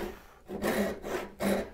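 A saw cuts a kerf across a piece of wood for a mitered bridle joint. Three close, quiet rasping strokes follow one another in a steady back-and-forth rhythm.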